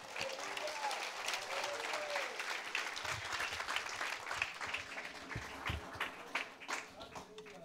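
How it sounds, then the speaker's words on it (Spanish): Church congregation applause at a sermon, a fairly quiet, sustained patter of many hands with a few louder individual claps, a voice speaking faintly beneath it. "Fuerte el aplauso a Jesucristo."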